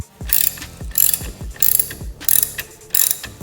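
Ratchet socket wrench clicking as it turns a bolt on a Harley Softail motorcycle during rear tire removal, with repeated bursts of close, crisp ratcheting in a steady back-and-forth rhythm and no talking.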